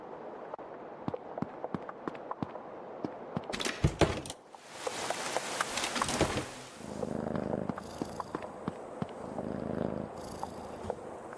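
A cat purrs in the video game Creepy Tale 2, a soft rhythmic purr threaded through clicks and taps, with a loud burst of rustling and clatter in the middle before the purring resumes.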